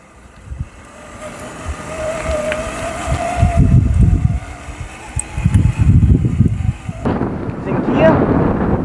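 A homemade e-bike driven by a cordless drill rolls along outdoors, a loud rumbling, wind-buffeted motor whine with uneven surges and road noise throughout.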